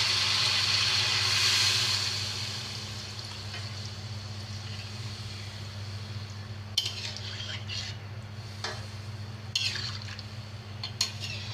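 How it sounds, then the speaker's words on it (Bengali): Water poured into a simmering tilapia fish curry with drumsticks, a brief broad splash at the start, then a steady low hum with a few sharp clinks of utensils against the pot. "এখন জলের জন্য পানি দিয়ে দিব"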